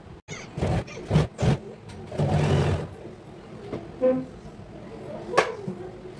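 A domestic sewing machine stitching the front part of a girl's crop top, running in short whirring bursts with pauses between them, fairly quiet and close.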